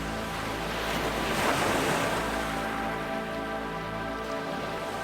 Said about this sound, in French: Chacune de ces vagues